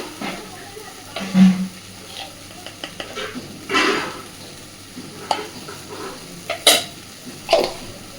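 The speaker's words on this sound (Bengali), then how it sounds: "খুব ভালোভাবে এটাকে নাড়তে থাকবো" Onion paste ground with green chilli being stirred in a pan, with soft intermittent scrapes and taps of a spoon against metal over a low sizzle; quiet and close, no voices.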